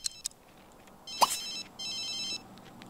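A phone rings in The Sims 3, several bursts of electronic telephone trills with short gaps between them, fairly loud and clear over a quiet game background.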